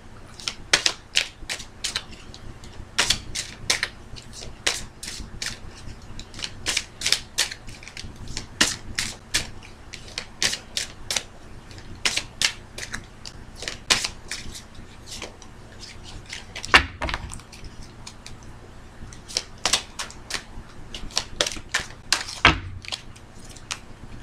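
Rapid crisp clicks and slaps of tarot cards being shuffled, repeating in quick bursts throughout, close by with no talking.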